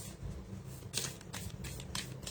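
Tarot cards being shuffled by hand, a run of soft papery riffles and flicks at close range, with a few sharper bursts of card slaps spread through the stretch.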